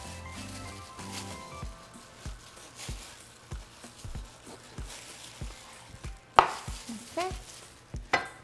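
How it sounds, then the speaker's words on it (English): A knife cutting pork butt into large pieces on a cutting board, with a regular series of close, soft thuds roughly every half second and a louder clatter near the end. A voice speaks once, briefly. "now I'm going to cut my pork butt into large pieces"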